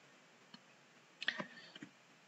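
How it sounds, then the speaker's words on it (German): Soft mouse clicks on a button in a C# Windows Forms program: a single faint tick, then a quick double click with a couple of small follow-up clicks, quiet and close with no talking. "Und da klicken wir jetzt zweimal drauf."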